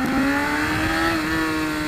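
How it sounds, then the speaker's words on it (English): Motorcycle engine held at high revs close by, a loud, steady roar with a slight pitch rise and fall over about two seconds, on a street outside a Harley dealership, with no talk. "Got to rev it up in front of Harley."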